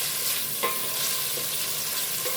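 Chicken and bottle gourd fry in a pan, a steady close sizzle broken by a few soft scraping strokes of stirring, with no voices.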